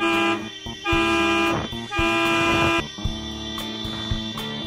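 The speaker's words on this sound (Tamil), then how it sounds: "இந்த லாரி டிரைவர் ஹார்ன் அடிச்சு யானைய திசை திருப்பிட்டாரு" Repeated loud honks from a lorry's horn blare in long sustained blasts, close and dominant, with a steady rumble of traffic underneath between the bursts.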